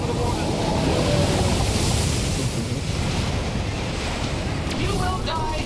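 Water in Dragon Age: The Veilguard, a dense steady roar of waves and rushing surf, loud and continuous with wind-like noise, a few faint clicks near the end.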